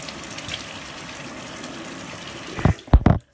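Water running from a bathroom faucet while warming up, a steady gushing hiss that continues throughout, then a few louder splashes near the end.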